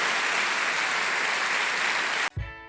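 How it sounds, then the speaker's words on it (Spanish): A church congregation applauds during a worship service, a dense, sustained wash of clapping that fills the room, then cuts off abruptly near the end. "Dale un aplauso a Dios."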